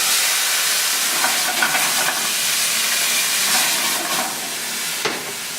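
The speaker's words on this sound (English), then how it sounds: "so we're just going to add some Marsala wine" Florio sweet Marsala wine poured into a hot pan with mushrooms sizzles loudly and steadily, a dense close hiss of bubbling liquid with faint stirring clinks near the end.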